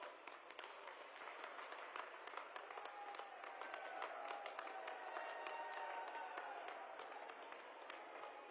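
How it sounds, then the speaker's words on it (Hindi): An audience at a state-level women's conference in Rajasthan applauds to welcome the chief minister, a sustained, even wash of many hands clapping from a large crowd, heard from a distance and fairly faint. "आप सभी की तालियों के अनुगूंज के बीच आमंत्रित हैं माननीय मुख्यमंत्री राजस्थान श्री भजन लाल शर्मा जी"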